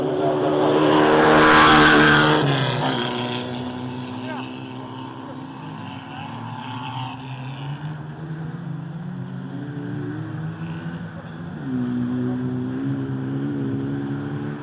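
Motocross motorcycles race in a cross final, engines held on throttle with a rising and falling drone and harmonic whine, loud at first and then steadier, while a commentator talks over them.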